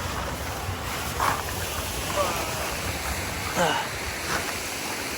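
A steady, broadband roar of rushing water from a waterfall fills the scene, with a few faint voices surfacing briefly beneath it.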